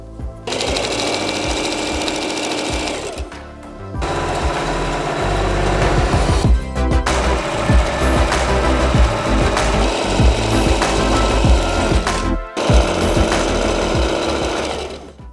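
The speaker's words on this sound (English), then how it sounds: "Let's see if my sewing machine can get through this." A sewing machine stitching thick fabric runs in loud, steady bursts with a rapid mechanical stitching chatter, pausing briefly between runs, close to the listener.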